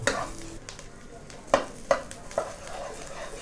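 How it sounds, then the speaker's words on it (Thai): Dried chilies dry-roasting in a pan for Thai Isan jaew dip: a soft continuous sizzle and stirring, punctuated by three sharper scraping knocks of a utensil against the pan, close and moderate in level. "หลังจากที่เราคั่วพริกเรียบร้อยแล้ว"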